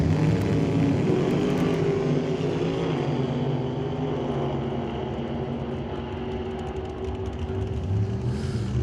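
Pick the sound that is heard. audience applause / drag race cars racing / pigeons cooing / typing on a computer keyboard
drag race cars racing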